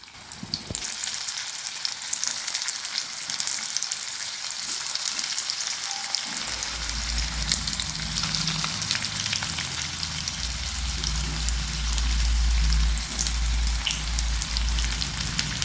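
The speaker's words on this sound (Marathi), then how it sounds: "आपण सर्व कारला या प्रकारे ठेवून घेतले तेलामध्ये. आपण याला 5 मिनिटं फ्राय करून घ्यायचे." Stuffed bitter gourds fry in hot oil with curry leaves, giving a continuous close crackling sizzle that grows fuller and denser partway through, with no talk.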